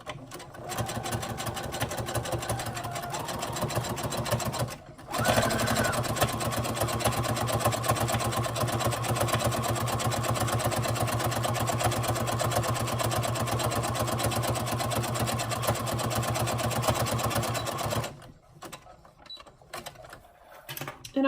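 A sewing machine runs a continuous zigzag stitch on bra cups, a loud, steady mechanical whir that stops briefly near the start and winds down toward the end.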